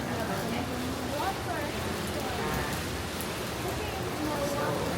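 Steady hiss of rain falling on surfaces in Taiwan, filling the whole stretch evenly, with faint voices murmuring underneath.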